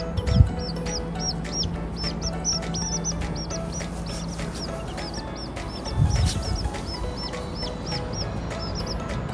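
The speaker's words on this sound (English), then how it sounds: "They got baby chickens." Baby chickens peep steadily in a rapid, regular stream of high chirps that carries through the whole stretch, with a couple of low thumps and shuffles nearby.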